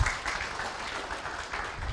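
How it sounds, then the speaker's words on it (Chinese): An audience at a motivational seminar bursts into applause, a dense, sustained wash of clapping that stays even from start to finish with no voices on top. "可不可以给我一个掌声？"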